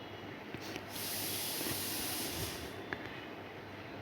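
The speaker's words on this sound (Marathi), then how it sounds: "आता आपण ह्याच्यामध्ये तेल गरम झाल्यावरती जिरे घालूयात" Cumin seeds go into hot oil and sizzle as a soft, steady hiss that swells after about a second and holds, with a couple of faint clicks.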